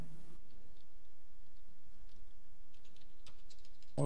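Someone types on a computer keyboard during a live esports match broadcast. Scattered soft key clicks come in irregular bursts over a faint, steady background hum.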